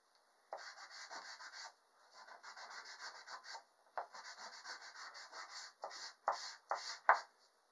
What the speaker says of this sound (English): Here with an eraser, define that edge better.